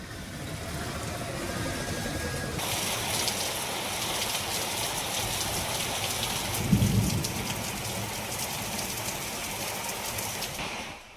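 Heavy rain pours down in Visakhapatnam, a dense continuous hiss of drops striking surfaces with a low rumble partway through.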